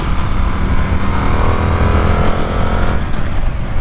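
Indian FTR 1200 V-twin motorcycle engine running loud and close, a steady low rumble with a slight rise in revs and a drop near the end, no talk over it.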